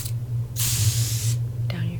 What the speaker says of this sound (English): I'm just going to start spraying you now.